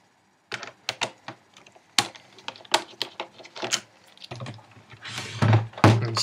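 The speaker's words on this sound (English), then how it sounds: "And you want to take out the Torx screw" Torx screwdriver working a screw out of a PS3 console lid during a yellow-light-fault repair: a run of sharp close clicks, taps and clatter of tool on plastic casing and metal, irregular and fairly loud, with no talk.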